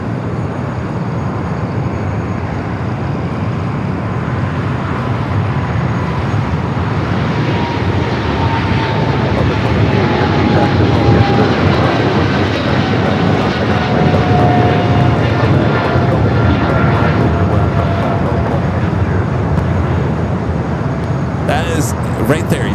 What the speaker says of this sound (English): Flight to London Heathrow, the 777-300ER with American.